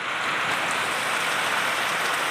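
Torrential Konkan monsoon rain beats down on a courtyard in a thick, constant roar of falling water, near and loud with no pauses and no one talking.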